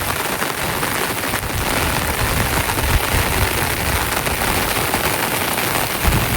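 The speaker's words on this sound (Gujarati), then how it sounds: "એટલે ભાઈ વરસાદ વધી ગયો હવે હો બહુ." Heavy monsoon rain pours steadily near a swollen, flooding river in a Gujarati village, a dense, continuous roar of drops drumming on surfaces with no break and no voices.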